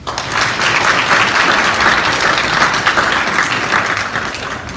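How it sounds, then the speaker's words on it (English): Audience applauding inductees at a ceremony, a thick sustained round of many clapping hands that swells in quickly, holds steady and loud, then tapers slightly at the end, with no talking over it. "So could everybody just give a round of applause to our inductees?"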